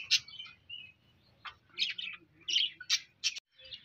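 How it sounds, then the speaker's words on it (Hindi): Pet Australian parrots on a farm give a run of short, bright chirps and tweets in irregular bursts, fairly close and clear, with a faint low background hum underneath. "असी है आस्ट्रेलियन तोते रखे हुए जी"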